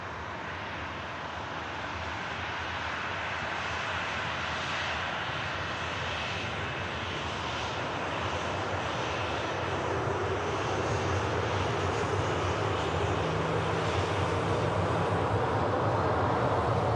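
A Ryanair airliner departing Manchester Airport for Riga, its jet engines a broad, steady roar that grows gradually louder over seventeen seconds, heard from a distance with no talk.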